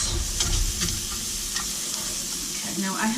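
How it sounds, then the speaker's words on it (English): A mixture of sour cream, soup and peppers goes into a hot pan of beef stroganoff and is stirred with a spatula. Close, continuous sizzling runs under scraping stir strokes, with no voices. "I'm going to put in the mixture of sour cream, soup, and peppers"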